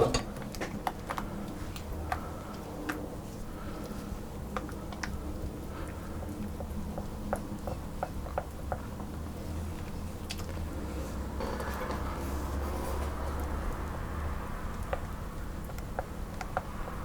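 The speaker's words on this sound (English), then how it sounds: "I'm going to stir that around" A spoon stirs melting butter and chocolate chips in a pot, giving soft scattered clinks and scrapes against the metal over a steady low background hum, with no talking.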